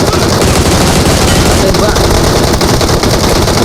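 Rapid automatic gunfire in PUBG Mobile, loud and continuous, with dense overlapping shots throughout and a voice mixed in beneath the firing.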